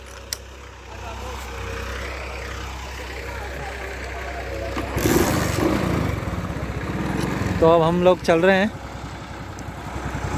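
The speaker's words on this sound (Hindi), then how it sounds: "लेते हैं बाइक" A motorbike engine runs steadily at close range, with a louder rumble midway as it moves off, while someone talks over it and other voices briefly join.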